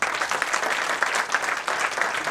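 An audience claps steadily for student performers at a cultural evening, a dense, lively applause with slight swells in intensity, continuing without pause.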